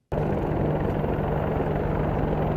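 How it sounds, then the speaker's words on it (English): Steady, loud rotor and engine drone of a U.S. military helicopter during test firing in South Korea, a continuous low throbbing roar with no distinct gunshots standing out, heard alone without talk. "U.S. military helicopters test fire on South Korean soil."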